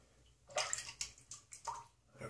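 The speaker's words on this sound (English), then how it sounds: "Add a bit of water." Water drips and splashes onto a soft shaving brush from a Boss Razors safety razor kit, several short wet bursts close by with brief pauses between them, and no voices.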